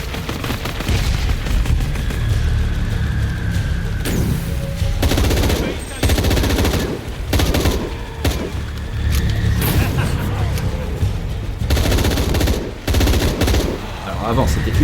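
Gunfire in the action game Shadow of the Tomb Raider: loud bursts of automatic fire and sharp shots come in clusters, broken by brief pauses, with a voice talking at times.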